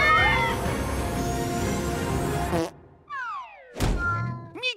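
Cartoon cats meow in short rising-and-falling cries after a dense burst of music and effects stops, several separate meows spaced over the last two seconds with a dull thud between them.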